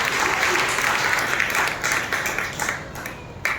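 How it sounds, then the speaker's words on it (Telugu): A church congregation claps loudly during a Sunday worship service, a dense sustained wash of applause filling the room, slightly thinning toward the end. "బిగ్గరగా చప్పట్లు కొట్టి ప్రభువును మహిమపరచండి"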